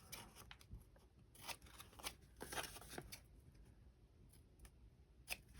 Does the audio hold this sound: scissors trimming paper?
yes